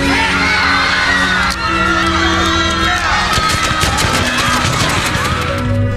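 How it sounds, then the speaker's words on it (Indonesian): A film crowd of civilians screams hysterically in a loud, dense wall of shrieks and yells that rises and overlaps continuously for several seconds. "Tak lama mereka pun semua berteriak histeris."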